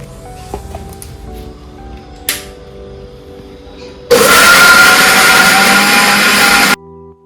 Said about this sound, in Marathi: इथे आता आपण हे मिश्रण मिक्सरला दळून घेऊ